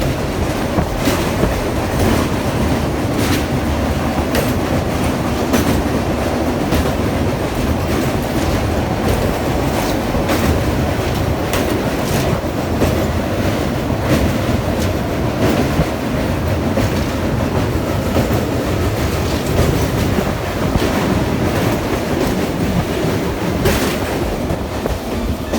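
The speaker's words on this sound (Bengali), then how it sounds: "তো গাইস, আমরা এখন কোলাঘাট স্টেশন অতিক্রম করছি।" Howrah–Haldia fast local train running past Kolaghat station near the Rupnarayan river bridge, a loud, steady rumble from onboard with constant rhythmic clickety-clack of wheels over rail joints, continuous and without talk.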